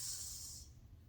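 A voice imitates the hiss of air escaping from a flat tire, a short faint airy hiss that fades out after about half a second.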